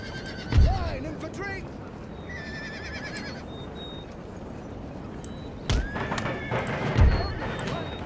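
Cavalry horses in the Empire Total War video game neigh and whinny several times, with hoof clatter and thumps in a busy battle soundscape.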